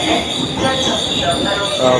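Interior of a moving train in Korea, a loud steady rumble with high metallic wheel squeal layered over it, continuous for the whole stretch.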